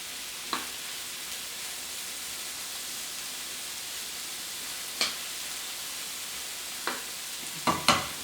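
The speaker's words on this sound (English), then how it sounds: "so I can stir this" Food stirred in a coated frying pan gives a low, steady sizzle, broken by a handful of brief scrapes at irregular gaps, with the last two close together.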